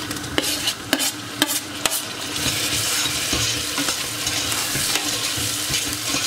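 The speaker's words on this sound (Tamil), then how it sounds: "ஆனியன் வந்து எப்பொழுதுமே கொஞ்சம் நல்லா கோல்டன் ப்ரௌன் ஆக விடுங்க, அது வரைக்கும் வதக்குங்க." Onions sauté in a pan for plain biryani (kuska), a steady close sizzle running throughout with sharp spatula scrapes and stirs clustered in the first two seconds, then fainter occasional clicks.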